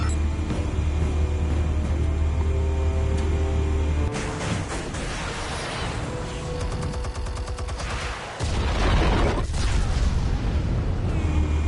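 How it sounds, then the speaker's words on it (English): Explosives going off in the Batman Telltale game: a dense, loud barrage of booms and crackling blasts over a heavy low rumble, with a brief dip before a renewed surge of detonations. "Explosives armed. Fire when ready."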